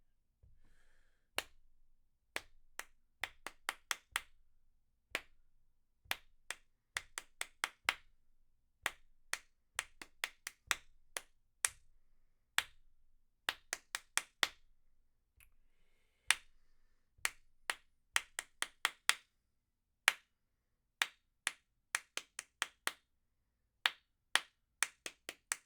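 Sharp hand claps tapping out a slow sixteenth-note rhythm in a clarinet lesson, grouped in quick bursts of four and separated by short pauses, clear and close with no talking.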